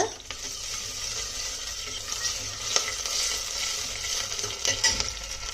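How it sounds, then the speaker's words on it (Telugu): Cumin seeds, green chillies and curry leaves frying in hot oil, a close, continuous hiss and sizzle with scattered spits and crackles, and no voices over it. "ఆయిల్ వేడెక్కాక జీలకర్ర, పచ్చిమిర్చి, కరివేపాకు వేసేద్దామండి"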